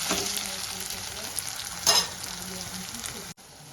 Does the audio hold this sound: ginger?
yes